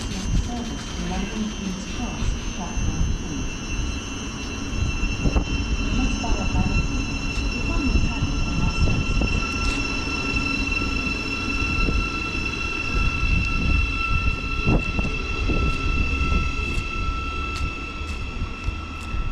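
Thameslink Class 700 electric train, unit 700119, departing Cambridge on the Brighton service. A loud, close rumble of wheels and motors with steady high-pitched whine and occasional squeals and clunks, sustained throughout.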